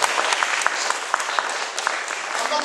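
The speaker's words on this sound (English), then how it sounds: "I'm not supposed to talk over your applause" A live audience applauds steadily throughout, dense overlapping claps forming a continuous wash of sound with no pauses.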